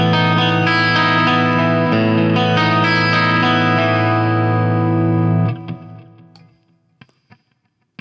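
A Music Man Y2D Dark Lord bass with a Seymour Duncan P-Rails pickup in full humbucker mode plays a loud, thick sustained chord with heavy distortion and effects, rings for about five seconds, then cuts off into a decaying tail and a few small clicks.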